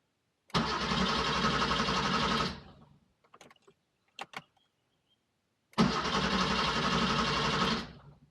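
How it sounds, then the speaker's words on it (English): Two long bursts of a Porsche 911 engine cranking, a steady rapid whirring churn lasting a couple of seconds each, separated by a pause with a few faint clicks. "just crank the engine to get a little bit of oil circulating before I try to fire it up"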